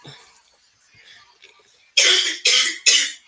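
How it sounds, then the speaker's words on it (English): Three loud, close coughs in quick succession follow a stretch of faint, scattered background sounds and a soft voice. "And my daughter's coughing in the back"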